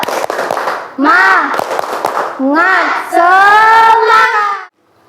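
A classroom of schoolchildren claps sharply in rhythmic bursts and chants loudly in unison, the group voices rising in sustained shouted phrases between the claps before stopping abruptly.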